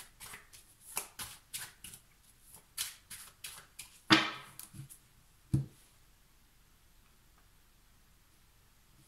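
Tarot cards shuffled by hand for a reading: a quick run of close, crisp riffling bursts, then a sharp slap and a thump before quiet.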